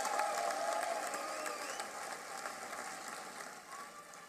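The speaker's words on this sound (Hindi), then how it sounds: "एक बार ताली बजाकर इनका स्वागत" Audience applause at a political rally, a dense, crackling burst of many hands clapping at once from a large crowd, loudest at the start and tapering slightly as it goes on, with no talk over it.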